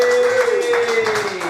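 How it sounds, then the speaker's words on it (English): Audience applause for comedian Joseph Johnson at a Brighton Fringe comedy show, clapping that runs steadily beneath a sustained voice or tone. "Another round of applause for Joseph Johnson there"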